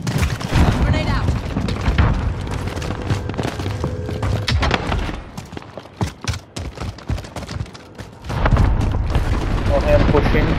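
Grenade blasts and gunfire in the Call of Duty: Modern Warfare video game, with loud booming bursts and sharp cracking shots amid dense battle noise, under players' talk, with a quieter stretch of scattered shots before the din resumes.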